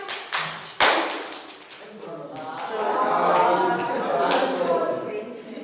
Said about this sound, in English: Ready? Clap.